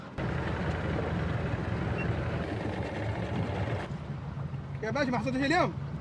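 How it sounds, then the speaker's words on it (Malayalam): A fishing boat on the sea off Oman heading toward shore, with a steady engine and water rumble under wind noise and a brief burst of nearby speech. "അപ്പോൾ അതുകൊണ്ട് നമ്മളിനി പയ്യെ ബോട്ട് നമ്മളെ കരയ്ക്ക് ഇറക്കാൻ വേണ്ടി പോവാണ്"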